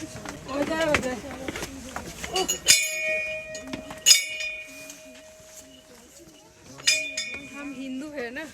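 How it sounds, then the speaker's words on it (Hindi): A metal temple bell clangs a few times with long ringing tails, amid people talking and moving nearby, at Dal Lake in Kashmir. "घंटी जब तक नहीं बजाएंगे तब तक हम लोग को शांति नहीं मिलता है।"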